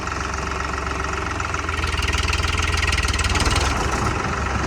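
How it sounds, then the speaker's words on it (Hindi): A tractor engine, started without a push, catches and runs with a loud, steady knocking diesel chug, its rhythmic pulsing growing stronger midway and continuing close by. "ऐसे भी ट्रैक्टर स्टार्ट हो जाता है अगर कोई धक्का देने वाला नहीं हो"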